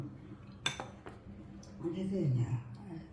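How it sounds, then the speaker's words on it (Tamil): Cowpeas (karamani) dropped into a metal pot while cooking sweet payasam make a sharp clink, with a few lighter taps after it and a soft scraping rustle near the end. "காராமணியை போட்டுக்கிறோம்"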